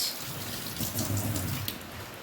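Steady rain falling on a rainy day, a continuous soft wash of drops with a few slightly louder patches, moderately faint and heard alone without any talking.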